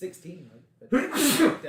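A single sneeze bursts out loudly after a brief stretch of low conversation around a tabletop role-playing game, with voices talking before it.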